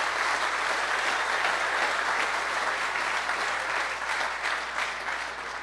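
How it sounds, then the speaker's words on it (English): Steady, dense applause from a large audience at an evening skipper's meeting for the Chicago Yacht Club Race to Mackinac, with continuous clapping at constant loudness that tapers slightly toward the end. "big round of applause for our sponsors in through here"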